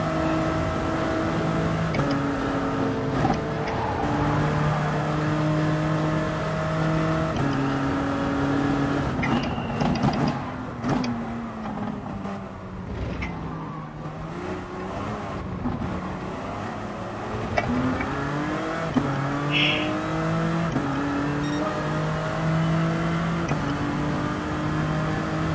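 A Toyota car engine revs and accelerates hard off the line, its pitch climbing repeatedly through gear changes, loud and close, with brief lulls between pulls.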